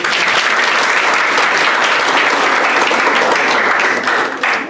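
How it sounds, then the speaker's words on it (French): Dense, steady applause from an audience at a school show at a middle school in Kenitra, Morocco, filling the whole stretch at close range without a break and easing slightly at the very end. "Applaudissez, mesdames et messieurs, ces artistes le méritent."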